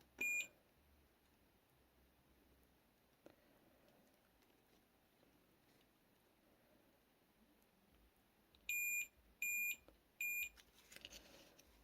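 A multimeter set to continuity gives three short, sharp beeps in a row near the end of the test on a water-damaged Nintendo DSi button switch, ringing out clearly over a quiet room, with one brief beep at the very start.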